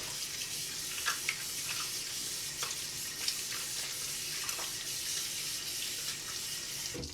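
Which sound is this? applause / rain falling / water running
water running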